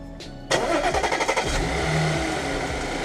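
An Audi S4 B8 engine cranks and fires up after an oil change, a short starter whir followed by a loud catch and a steady idle close by.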